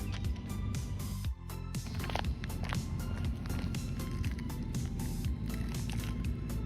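Rlaarlo X1 RC car running a long pass at full throttle on a track, a loud, steady, continuous high-revving motor whine with rough buzzing texture that holds for the whole stretch, with a brief dip near the start.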